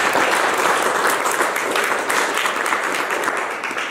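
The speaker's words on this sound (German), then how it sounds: "Begrüßen Sie erstmal mit uns großen Applaus." Loud, dense applause from a seated audience at a panel discussion on journalism and the climate crisis, a steady wash of clapping that holds throughout with no talk over it.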